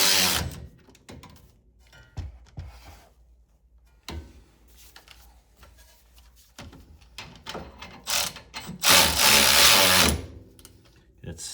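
A ratchet snugs an 18 mm bolt on a Mercedes W163 during rear parking brake shoe and cable work, giving short bursts of clicking that turn into a loud rapid run near the end, with some talk earlier.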